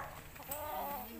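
Hens at a rural Philippine home cluck softly in a short, faint burst of a few clucks, close by with no speech.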